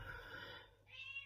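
House cat meowing indoors, one soft drawn-out meow followed by a higher rising call, faint and nearby with no speech over it.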